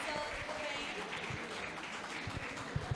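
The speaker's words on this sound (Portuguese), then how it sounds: "Vamos chamar e aplaudir o professor Eduardo Pereira" An audience at a writing class applauds a teacher as he is welcomed, with continuous clapping and some crowd murmur and voices mixed in, a few sharper claps standing out near the end.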